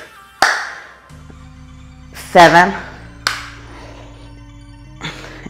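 A few loud, sharp hand claps punctuate a core workout session, separated by pauses, with a voice counting nearby.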